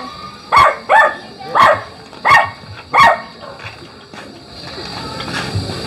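A dog barks five times in a fairly even rhythm, moderately close, then falls quiet against faint background noise.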